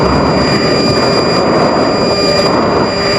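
Steady loud roar of an F-16 fighter jet engine during a flat spin, heard as a continuous broadband rush with a faint whine and no voices.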